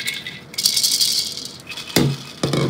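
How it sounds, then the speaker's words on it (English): Plastic BTS lightstick shaken by hand, small loose parts rattling inside in a few short bursts, close and fairly quiet with pauses between shakes. "So I'll try to shake them all for you so you can like hear that they all make a different sound."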